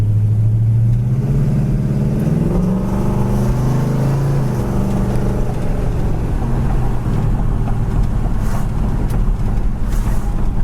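A 1968 Pontiac GTO engine runs loud and close while driving, a deep steady rumble with a low tone that rises through the first few seconds as it accelerates, then settles into a continuous cruising drone.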